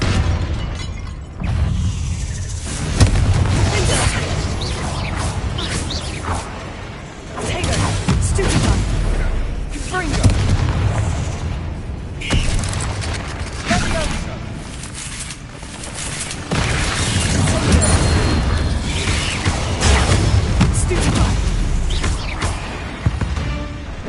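Confringo fire spells in Hogwarts Legacy set off a rapid series of loud, crackling explosions and bursts that fill the scene with booms and shattering debris from start to finish.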